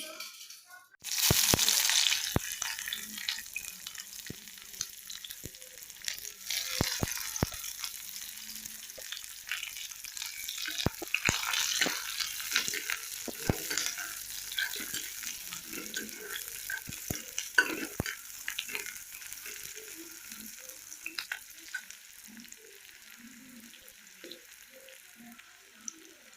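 Onions sizzle in hot mustard oil in a wok on a gas stove, with a loud burst as they go in, then steady frying crackle and repeated scraping stirs, close and without talk.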